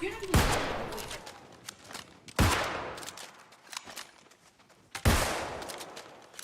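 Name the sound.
musket gunfire in a video game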